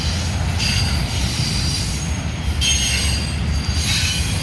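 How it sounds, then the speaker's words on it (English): Railcars moving through an interchange yard in Dallas, Texas, steel wheels squealing loudly on a curve over a constant low rumble of rolling stock, with repeated shrill pulses. "there's that big power unit getting ready to go out the end of the interchange yard down there"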